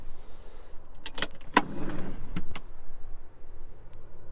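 A drawer slides open inside a camper van, with a few sharp clacks and a rolling scrape, close and fairly loud in a quiet interior.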